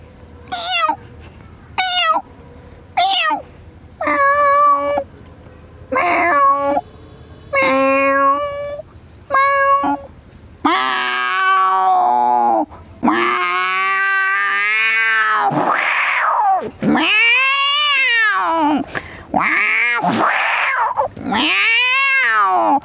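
A man imitates cat calls by voice: a run of short, high kitten meows, then longer, louder, wavering adult-cat meows and yowls that follow one another closely.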